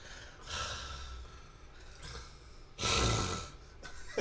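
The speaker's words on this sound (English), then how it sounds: "Can you hear me breathing?" Close breathing right into a microphone on a live drawing stream, with heavy, noisy breaths and one loud gust near the end, no talking.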